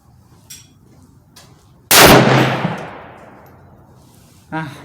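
One loud, close rifle shot from a Tikka T3X Lite deer rifle cracks sharply and then rolls away in a long fading echo, with quiet background before and after.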